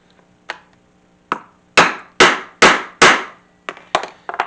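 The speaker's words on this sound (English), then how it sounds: "and go ahead and set that rivet." A hammer strikes a rivet on a leather strap set over a poly board: a few light taps, then four hard, evenly spaced blows, then several quicker, lighter taps, close and sharp with nothing else heard.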